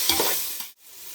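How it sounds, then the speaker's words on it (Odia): Ginger garlic paste fries in a pan for mutton biryani with a steady hiss and stirring scrapes, near and continuous, breaking off briefly before resuming. "ଅଦା ରସୁଣ ପେଷ୍ଟର କଞ୍ଚା ବାସ୍ନା ଯିବା ପର୍ଯ୍ୟନ୍ତ ଆକୁ ଆମେ ଭାଜିବା"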